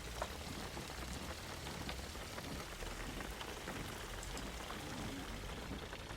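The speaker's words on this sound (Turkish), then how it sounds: "yağmur duruyor" Steady rain in the video game Jalopy patters in a dense, even hiss of droplets, faint and unbroken throughout.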